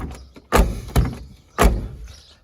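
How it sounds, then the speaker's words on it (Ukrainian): Car door on a VAZ 2121 Niva fitted with Priora silent locks, shut three times in a row: three solid, close thunks about half a second to a second apart, each decaying quickly, with no talk. "Дверочка закривається."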